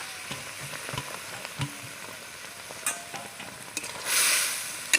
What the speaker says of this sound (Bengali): এবার আমি খুব ভালো করে নেড়ে নিয়ে আমি একটা লাড্ডুর পাক তৈরি করে নেব